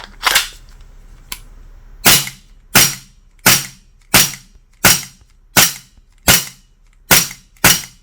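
A GHK G45 gas blowback airsoft pistol fires about eleven sharp, loud single shots, each with a crisp snap and brief tail. The first comes alone, and after a pause the rest follow at a steady, even rhythm of roughly one every 0.7 seconds.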